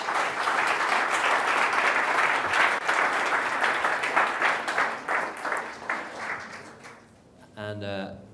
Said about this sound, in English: If we will give Paul a round of applause.